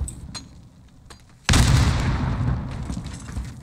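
A sudden loud explosion booms after a quieter stretch, followed by a rumbling, crackling decay.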